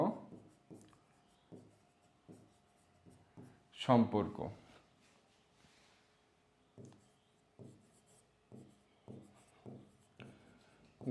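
A pen scratches across paper in short, rhythmic strokes during a fifth-grade maths lesson, with a brief louder rustle midway; a teacher talks over the writing.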